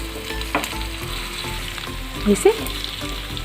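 Chicken pieces fry uncovered in a pan over low heat for butter chicken, with a constant close sizzle and a couple of louder spatters or stirring knocks partway through, and a single brief spoken word.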